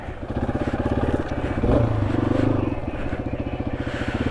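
A Yamaha XT250 dual-sport motorcycle engine chugs in a steady, pulsing rhythm close by on an off-road trail, rising briefly in the middle before settling back to a lumpy idle-like beat.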